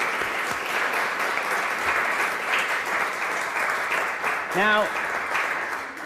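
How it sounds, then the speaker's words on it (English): An art auction audience applauds a new artist, steady moderate clapping from a crowd that runs throughout, with someone speaking briefly and a short tonal squeak near the end. "let's have a round of applause for our new artist."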